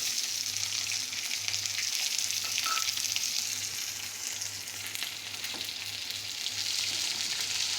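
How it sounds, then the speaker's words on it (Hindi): Spices crackle and fry in a hot pan during the tempering for upma, a continuous loud sizzle with fine popping heard up close and without speech. "मैंने बताया था ये क्रैकल होगा, हल्के से इसका ये फ्राई होने के लिए। ये देखिए क्रैक करने लगा है"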